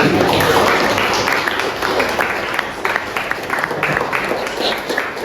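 An audience claps for a guest doctor at a school learning session, with a loud burst of applause at the start that thins into scattered claps and voices.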